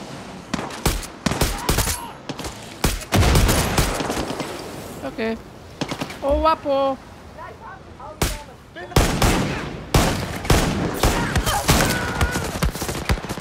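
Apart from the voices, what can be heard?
gunfire in the video game Far Cry 6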